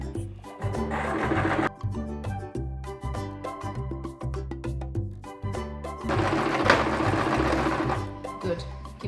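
Sewing machine stitching pillowcase hems, running in pedal-driven bursts with steady rhythmic whirring, pausing and restarting, with faint talk.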